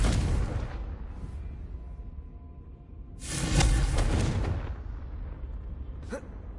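A Confringo fire spell explodes in the video game Hogwarts Legacy, a deep, loud blast with a rumbling tail, following a muffled earlier boom and ending in a short swoosh.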